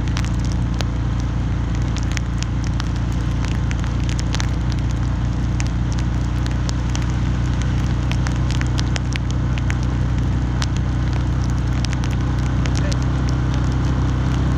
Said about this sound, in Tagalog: ulan pa rin.